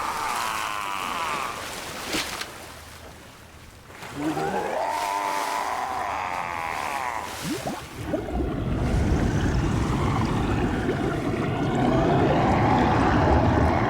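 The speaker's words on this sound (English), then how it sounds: "He was just swimming in that water." A character swims through water in Metal Gear Solid 2, with sloshing, splashing strokes and sweeping watery swooshes that grow into a continuous, louder churning wash.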